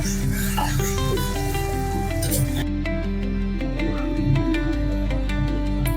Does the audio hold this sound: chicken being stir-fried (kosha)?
yes